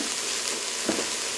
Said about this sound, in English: Now I'm going to add 2 tablespoons of chopped garlic.